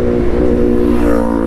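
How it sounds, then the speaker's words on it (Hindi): A motorbike passes on a road on a Sunday, its engine loud and close with a steady droning tone that swells briefly before easing, with no talk over it. "अरे भाई सारे बाइकर आज ही निकले हैं क्या संडे को? एक और आया"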